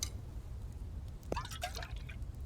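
Water sounds from the video game The Infected as dirty water is emptied: a few brief liquid drips and splashes over a steady low background hum.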